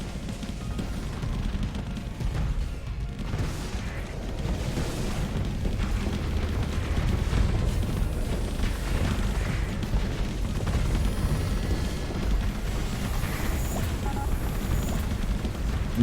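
Continuous dense barrage of explosions from antimatter torpedoes in the space combat game Starsector, a loud rumbling, crackling wash like constant fireworks with overlapping booms and pops throughout.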